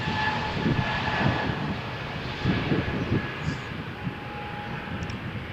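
An aircraft takes off from Malaga Airport on a stormy morning, a steady roaring engine rumble with a faint whine. A voice is heard speaking intermittently over it.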